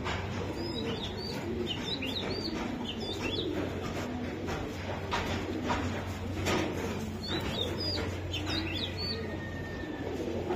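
Racing pigeons call in faint, brief chirping bursts that repeat every second or so over a constant low background hum.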